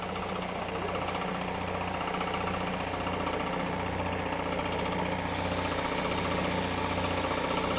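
A repaired air compressor runs continuously, newly oiled, with a steady mechanical drone and a rapid knocking pulse, loud and close; a brighter hiss joins partway through.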